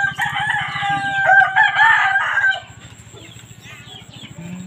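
A rooster crows loudly and close for about two seconds among chickens, followed by quieter clucking over a low, steady rhythmic pulsing.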